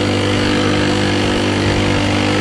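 A motorcycle fitted with a new carburetor strains to pull away from a standstill, its engine droning loud and steady with a labored, unchanging note for a couple of seconds.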